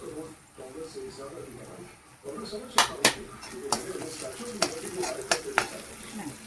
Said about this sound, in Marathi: आता आपण मटकी घालणार आहोत